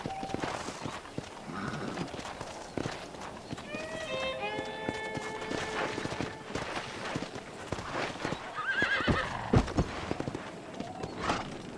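Horse hooves clip-clopping in the video game Red Dead Redemption, steady irregular thuds throughout, mixed with a short whinny-like tonal call and talking in the background.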